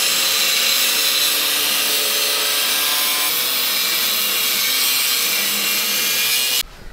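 Power tool cutting through the main bumper support bracket on a Ford truck to trim for tire clearance. The cut is a loud, continuous, harsh abrasive whine that stops abruptly at the end.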